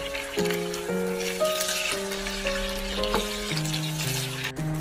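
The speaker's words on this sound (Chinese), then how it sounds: "然后再煎3分钟左右，煎至2面金黄，然后翻炒均匀" Egg tofu sizzles steadily in a hot oiled pan while a slow melody of sustained tones plays over it.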